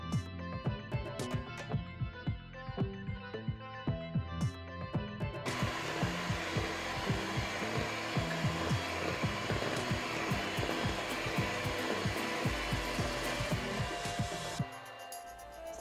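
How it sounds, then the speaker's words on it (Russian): An electric mixer whips heavy 30% cream with powdered sugar, a steady loud whirring drone that briefly pulses at first, then runs continuously before dropping off near the end. "Взбиваем с сахарной пудрой 160 грамм."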